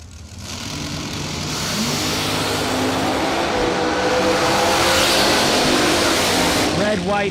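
Cars accelerate hard off the line at a bracket drag race. A loud engine roar builds and holds over several seconds with a rising pitch, while an announcer talks over the noise.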